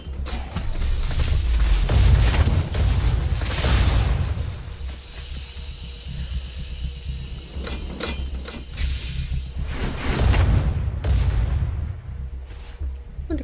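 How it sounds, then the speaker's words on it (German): Catapult bombs exploding in the zombie survival game Night of the Dead, heavy booming blasts with rumbling low end, several bursts spread across the stretch amid mechanical creaks and clanks of defenses. "Und die Katapultbomben mag ich auch,"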